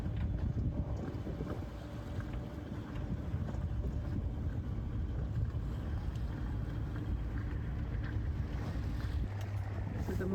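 Another boat passes and overtakes a cruising sailboat off the Greek coast. A low engine rumble runs under steady wind buffeting and water noise, constant and fairly close.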